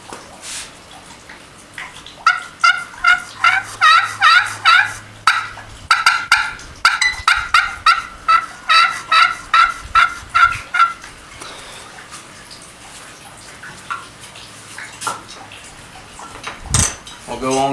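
A handmade friction turkey call, played with a replacement striker, imitates turkey gobbles and yelps. Rapid bursts of scratchy, high-pitched calls come in clustered runs, close and loud, with brief pauses between them.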